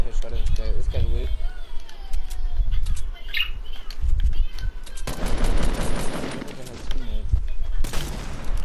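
Gunfire from the video game Fortnite, with rapid bursts of shots and fusillades that come loud and close, heard under several players talking.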